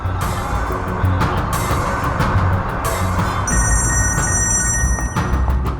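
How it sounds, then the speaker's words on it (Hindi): A telephone rings unanswered in a Hindi TV crime drama, its electronic ringing tones sounding over a dense, noisy background. "जी फोन भी नहीं उठा रहे हैं।"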